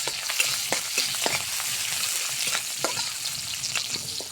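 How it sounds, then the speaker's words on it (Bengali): Onions frying in oil until browned, for a dish of mixed greens: a steady, close sizzle with crackling pops and occasional stirring scrapes, continuous and moderately loud with no talking. "এখন পেঁয়াজটা আমি বাদামি বাদামি করে ভাজে নিয়েছি শাকের জন্য"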